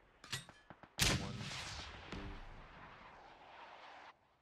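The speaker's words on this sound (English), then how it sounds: "So you can fire repeatedly with the left trigger" Mortar rounds firing in PUBG on PC: a series of sharp launch thumps, then a heavy boom near the one-second mark and another around two seconds, each followed by a long rumbling tail that slowly fades.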